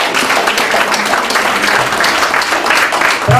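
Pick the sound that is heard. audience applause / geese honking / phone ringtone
audience applause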